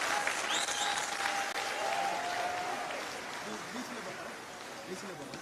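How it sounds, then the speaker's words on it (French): Steady applause from an audience at the opening ceremony of the ECOFEST festival, moderately loud and continuous, fading slightly toward the end, with a voice over it. "Sous vos applaudissements, s'il vous plaît."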